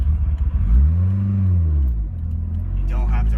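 Car on a stock ECU tune pulling away on light throttle, a smooth low engine note that swells gently and settles, steady and close, with a voice talking briefly at the end.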